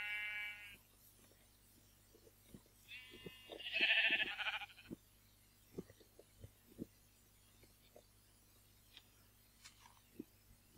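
Sheep bleat in the Minecraft video game, with a short bleat followed by a louder, fuller one. Faint scattered footstep-like ticks follow in a quiet open plain, and no one speaks.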